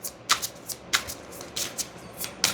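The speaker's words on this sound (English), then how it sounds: "So without further ado, let's get some shuffles." Oracle cards are shuffled by hand in a quick run of crisp riffling bursts, close and fairly loud, with short uneven pauses between.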